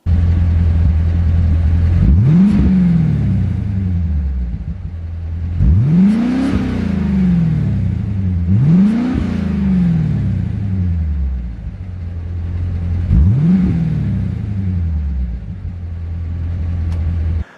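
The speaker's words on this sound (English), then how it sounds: "it does have an aftermarket exhaust on it" A C4 Chevrolet Corvette with an aftermarket exhaust revs up hard four times with a deep, throaty exhaust, each rise falling back to a loud rumbling idle.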